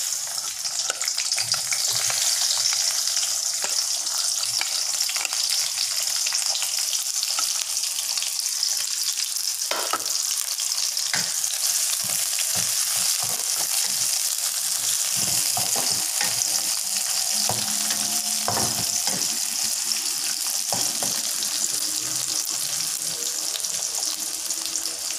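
Onions fry in oil for fish ball sambal, a dense continuous sizzle close up, broken by scattered scrapes and knocks of a spoon stirring the pan.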